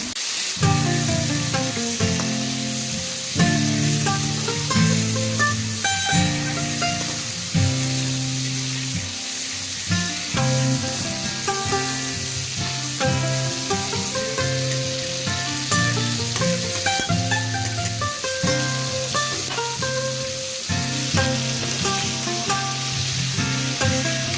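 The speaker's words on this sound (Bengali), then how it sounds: "তেল গরম হয়ে গেলে এই চিংড়ি মাছগুলো খুব ভালোভাবে আলতো করে ভেজে নেব।" Shrimp sizzle and crackle steadily in hot oil for a shrimp curry, with occasional stirring and spatula scrapes over a continuous frying hiss.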